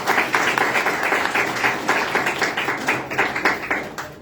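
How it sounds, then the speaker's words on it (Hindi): An audience at a church testimony gathering claps to welcome a visiting sister named Margunn, a loud, steady round of many hands, slightly rhythmic with pulsing beats, with no talk. "हम सब उनका तालियां बजाकर वेलकम करेंगे।"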